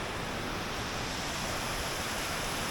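A waterfall pours steadily into the Caney Fork River at Rock Island State Park in winter, a dense, continuous roar of falling water close by with no voices.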